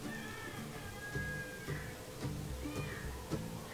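A kitten at an animal rescue meows several times in short, high cries over a faint background hum.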